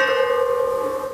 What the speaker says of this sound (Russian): Церковные колокола в атеистическом-то союзе.